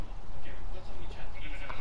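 Sheep bleating in the Minecraft video game, a short burst of repeated bleats mixed with continuous talk and game noise over the whole clip.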